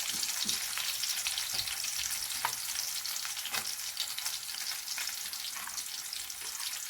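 Vegetables, including potatoes, frying in a pan with a steady, dense sizzle throughout, occasional soft stirring scrapes breaking through the hiss.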